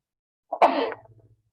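One short, explosive sneeze from a person, close to the microphone, followed by a brief fading breathy tail and then quiet.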